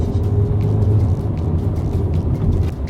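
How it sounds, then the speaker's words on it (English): A 2019 Ford Transit Connect van accelerates on a country road. A low, steady engine rumble builds from inside the cab, with no voices over it. "put your foot down on the accelerator and just enjoy that little burst of speed, you can do that with the Connect too"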